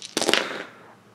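A quick volley of gunshots aimed at a tree in the video game Sine Tempore: several sharp, close cracks in rapid succession, then a fading tail, with no voices.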